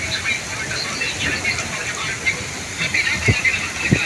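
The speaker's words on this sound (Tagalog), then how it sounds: "Ang ulan." Heavy typhoon rain hisses steadily aboard a boat at sea, a constant wash of noise with occasional thumps and a voice speaking briefly.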